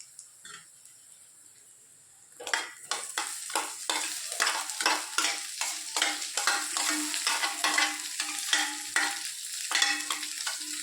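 Boiled potatoes tipped into a hot pan and stirred, starting with a quiet lead-in, then a sudden steady sizzle with rapid rhythmic scraping of a spoon against the pan, close and continuous.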